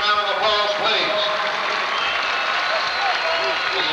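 A crowd at a 1988 school mass band show applauds an honoured guest, continuous clapping mixed with cheering voices throughout.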